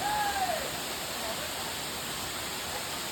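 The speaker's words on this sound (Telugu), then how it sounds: "ఆ పడిన వాటర్ కూడా అలా పైనుంచి కాకుండా ఆ రాళ్ళు మధ్యలోంచి దిగి కిందకైతే వెళ్ళిపోతుంది" Water flows down between rocks at the Dhar Palle waterfall, a steady broadband rush that fills the scene evenly at moderate loudness, with a brief faint tone near the start.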